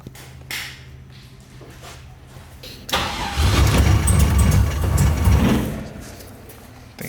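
A tuned Mazda RX7 FC rotary engine cranks and catches, then runs loud and rough near the microphone for a few seconds before settling back down.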